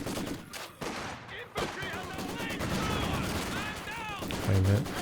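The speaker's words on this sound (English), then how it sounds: "Maxim doing some pretty good work while the machine gun's not on the battlefield" Maxim machine gun fire in the Company of Heroes 2 strategy game, rapid bursts crackling over a busy battlefield din with other gunfire, loud and sustained, a commentator talking over it.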